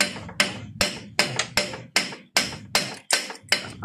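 Hammer pounding on a stuck kicker, about a dozen sharp, separate metallic strikes at an uneven quick pace, close and loud with brief quiet between blows.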